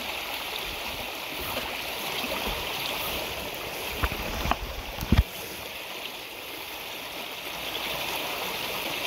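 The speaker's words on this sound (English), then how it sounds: "That fast water might be interesting." Fast-flowing stream water at a magnet fishing spot in the rain, a steady broadband rush throughout with a few brief knocks midway, no voices.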